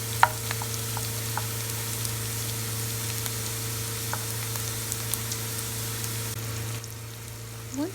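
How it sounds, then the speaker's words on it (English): For a Kerala kadala roast, onions sauté in coconut oil with mustard seeds and curry leaves, giving a steady close sizzle with scattered crackles and pops over a low constant hum. "Add 2 to 3 teaspoons of coconut oil and split up mustard seeds with curry leaves and put onions into it and saute the onions till it's golden brown in color"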